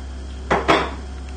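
Ceramic plates clattering against each other as they are cleared away in a home kitchen, two quick close knocks in a row against a steady low hum.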